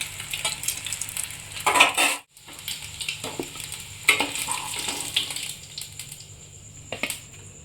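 Eggs sizzle steadily in hot oil for a dhaba-style egg and potato curry, with a few stirring scrapes and utensil clinks. The sizzle drops out briefly partway through, then resumes as a continuous close crackle.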